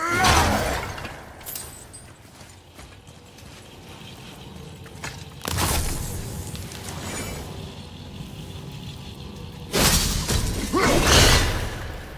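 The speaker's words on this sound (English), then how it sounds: "I will never get tired of shattering things with this." Objects shattering in God of War, three loud crashing bursts of breaking debris spaced several seconds apart, with quieter clattering and mechanical rattles in between.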